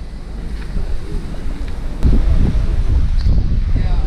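Wind and surf at Praia do Francês, a reef-fringed beach, with a steady broadband rush of waves and gusts buffeting the microphone, growing louder partway through.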